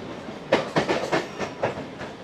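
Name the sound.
Mumbai local train running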